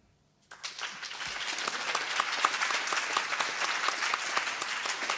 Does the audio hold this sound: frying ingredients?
no